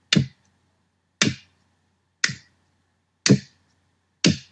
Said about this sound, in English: It is clapping on the Titantron.